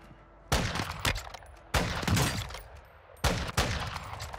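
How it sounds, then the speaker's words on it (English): Sniper rifle fire in a video game: four sharp, loud shots in two spaced pairs, each cracking out over a steady background hum and fading quickly. "Where's the sniper at? Someone is sniping."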